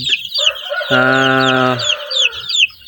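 A flock of two-week-old native chicks peep with rapid, high, close chirps throughout. A louder, drawn-out harmonic call from one bird cuts across the middle.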